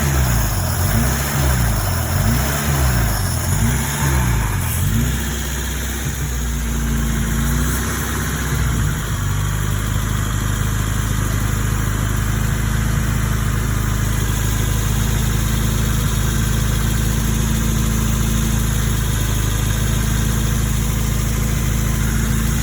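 A 2002 Acura RSX Type S engine with a vacuum issue idles steadily up close, its low hum audibly surging and wavering early on before settling into a constant drone.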